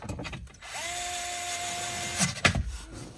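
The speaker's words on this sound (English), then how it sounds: "You can use it with a regular screwdriver. I just have an electric just to speed things up." An electric screwdriver drives screws into an interior panel of a 2004–2008 Acura TL during a cabin air filter replacement, giving a close, steady whine for over a second before a few brief clicks and bursts.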